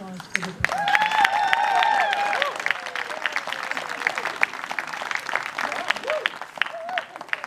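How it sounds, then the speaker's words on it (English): An audience claps for the percussionists at an evening birdsong music gathering: a steady patter of applause rising early, then thinning to scattered claps, with whistled tones and chatter mixed in. "Can we have a little more applause for the percussionists?"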